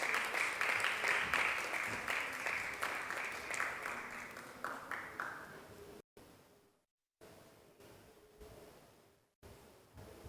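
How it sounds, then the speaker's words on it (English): An audience at a panel event on gender equality and energy claps for someone coming up to join, a dense burst of applause that fades gradually over several seconds and then goes quiet. "Please clap for her while she gets here."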